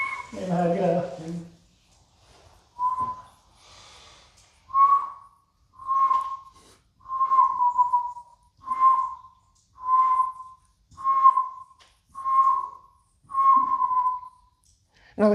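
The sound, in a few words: person trying to whistle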